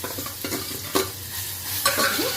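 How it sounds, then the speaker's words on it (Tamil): Ground masoor dal batter stirred in hot oil in a pan, a steady close sizzle with periodic scraping strokes of the spoon, loud and alone without speech. "இப்போ ஆயில் விட்டுருக்கேன் இந்த பாருங்கள் இந்த மாதிரி தண்ணி விடாமல் இந்த மாதிரி அரைச்சி வந்ததை இதில் போட்டுடலாம்"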